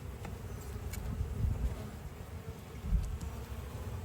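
Honey bees hum on a hive frame during an inspection, a low, steady drone of many wings close by, swelling slightly now and then, with no talking.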